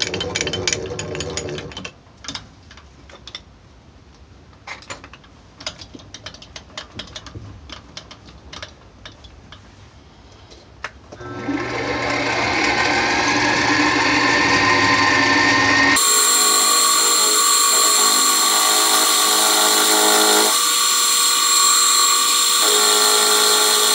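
Milling a pass across the top of a homemade boring head: light ticking and clicking of handling and setup at first, then a steady loud machining whine of cutter on metal that keeps going to the end.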